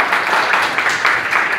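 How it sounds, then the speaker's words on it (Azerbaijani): A group of children applauds the finalists at a school geography map quiz, a brief burst of steady, close clapping. "Finalçıları gəlin alqışlayaq uşaqlar."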